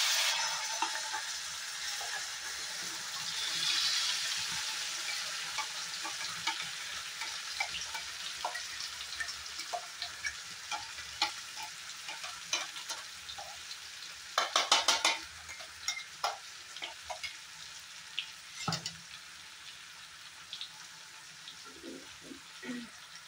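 Carrot paste for carrot laddu frying and being stirred in a pan, a steady soft sizzle with scattered clicks and a few louder scraping bursts near the end, no talking.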